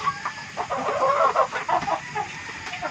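Chickens cluck and murmur softly up close while pecking at broken rice feed, with a few louder clucks and no talking.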